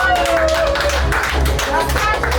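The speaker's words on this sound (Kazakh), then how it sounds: "Осындай мамаларды шапалақ соқпайық да." Audience applause at a birthday party, a dense burst of many hands clapping, with voices talking over it.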